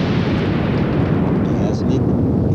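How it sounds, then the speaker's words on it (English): A cosmic explosion of an exploding star rendered as a deep, continuous roaring rumble, loud and dense throughout, with a faint higher tone drifting through near the end. "Cosmic explosion,"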